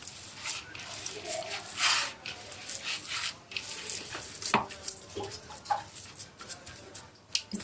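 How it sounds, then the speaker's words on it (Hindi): Hand mixing chopped onion into minced chicken for seekh kebab: soft, continuous squelching and rubbing with occasional light taps on a bowl, close and quiet. "हाथ की मदद से जो है इसको चिकन के मटेरियल में प्याज अच्छी तरह से मिक्स करेंगे"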